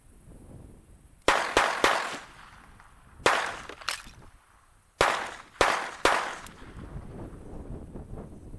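Several sharp gunshots from a Beretta 21A Bobcat pocket pistol, fired outdoors in two uneven bursts of single loud cracks, with wind noise on the microphone between shots.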